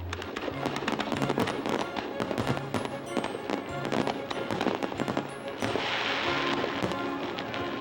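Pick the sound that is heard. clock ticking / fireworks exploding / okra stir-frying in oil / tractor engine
fireworks exploding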